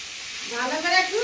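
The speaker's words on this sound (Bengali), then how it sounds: "সুন্দর করে একটু নেড়ে চেড়ে লাল লাল করে ভাজতে হবে কিন্তু।" Potatoes with salt and turmeric fry in a pan, a steady close sizzle that swells as they are stirred, with faint scraping turns near the end.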